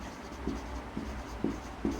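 Chalk or marker taps and scratches across a board during a classroom lesson, four short, faint strokes spaced about half a second apart over a quiet room background.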